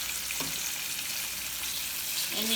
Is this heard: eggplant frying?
yes